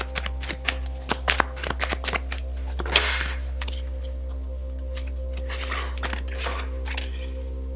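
Tarot cards shuffled close by, a quick run of crisp riffling flicks and slaps early on, then softer sliding and rustling under a steady low hum.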